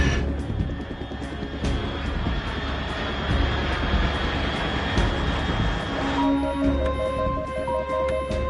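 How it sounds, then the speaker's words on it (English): Aircraft flying overhead in the Metal Gear Solid 3 video game, a loud continuous rumbling roar with a broad, heavy low end, joined near the end by a steady tonal hum. "Unidentified aircraft detected."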